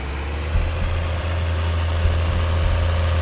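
A tractor engine in Farming Simulator 2013 idles with a steady, loud low rumble, close and continuous with no talk over it.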